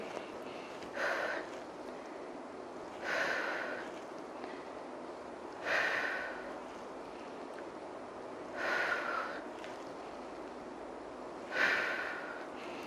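Heavy breathing during a HIIT workout comes as five slow, evenly spaced breaths over a faint steady background, each a soft rushing exhale heard close.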